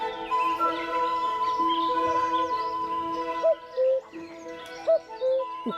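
Birds call in the Chambord forest in the Loire Valley, with several clear whistled and tonal notes overlapping at moderate distance and a few soft cooing or hooting calls.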